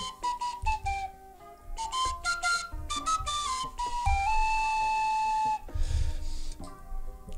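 A fluier, the Romanian folk whistle, plays a melody of sustained, gliding high tones that step up and down, with brief breathy pauses between phrases and steady moderate loudness.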